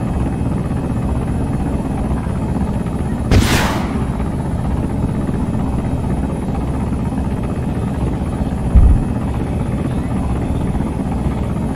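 A military helicopter's rotor drone runs loud and steady throughout, with a brief sharper burst partway through and a short thump near the end.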